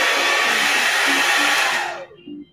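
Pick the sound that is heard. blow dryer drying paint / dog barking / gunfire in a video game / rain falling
blow dryer drying paint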